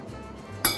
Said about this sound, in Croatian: malo maslinovog ulja, malo ovog italijanskog balsamika, pa ću da promešam